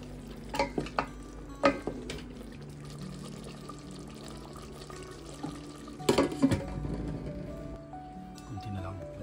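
Adobo simmers and sizzles in a pan while it is stirred, with a few sharp scrapes and clanks of the spoon, close by, and a voice talking over it.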